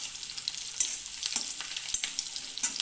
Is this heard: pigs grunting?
no